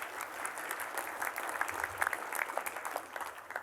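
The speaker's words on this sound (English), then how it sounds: "Let's give Gary a round of applause." An audience applauding at a morning show event, with steady dense clapping from many hands that stays fairly quiet and continuous, with no voice over it.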